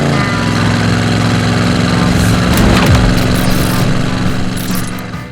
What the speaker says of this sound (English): Let's take it for a test drive.